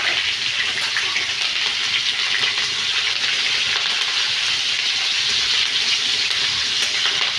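Chopped green chillies fry in hot oil with cumin seeds, giving a continuous, close, even sizzle and crackle that holds steady throughout with no talking.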